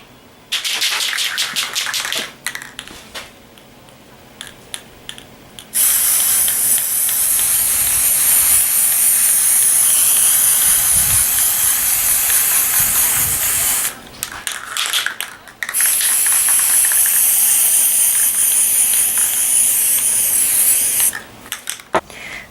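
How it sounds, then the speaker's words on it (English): Long, loud bursts of red aerosol spray paint hissing onto a homemade kite shield, two extended sprays separated by short pauses, close to the can with no voices. "now I'm going to spray paint it with some red spray paint"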